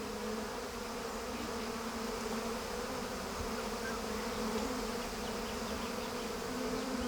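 Honeybees buzz at their hive in a dense, continuous drone of many wings, steady and fairly close, with no voices over it.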